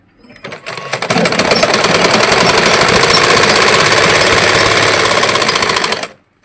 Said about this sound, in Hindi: यहाँ पे बेल्ट पट्टी को इस तरीके से रखना है और 1/2 इंच का मार्जिन लगाते हुए सिलाई लगा लेना है इस तरीके से।